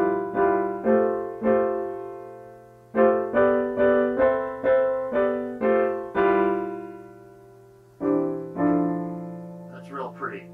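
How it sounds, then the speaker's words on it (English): Dense chord clusters are played on a keyboard, not an acoustic piano, in a modal jazz tutorial. They come as rhythmic repeated stabs in groups, each decaying, with no talking over them. "I call this a chord cluster."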